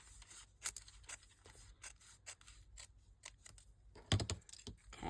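Scissors trimming a stitched fabric edge for a round tag, a quiet run of small irregular snips and clicks with a louder cluster of cuts near the end.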